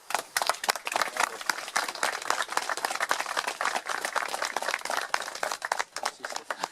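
Crowd applauding at an outdoor Armistice Day ceremony at a war memorial in La Fare, 2018: many separate hand claps rattle steadily and moderately close, with no voices over them.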